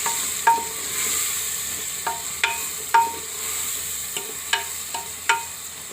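Cumin, red chili and salt being stirred in a pan for kang khichdi, with a steady soft sizzle and a series of light spoon taps and scrapes against the pan at irregular intervals.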